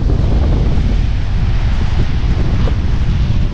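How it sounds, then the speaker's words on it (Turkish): Loud, continuous roar of rough Mediterranean surf at Mavikent, Turkey, with heavy wind buffeting the microphone and salt spray blowing, a dense rushing wash of sea noise throughout. "Deniz kabarmış durumda."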